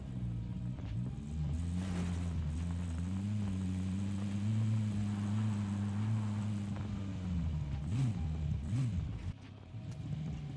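A vehicle in Call of Duty Warzone drives with a steady low engine drone that shifts pitch as it speeds up and slows, continuous and fairly close.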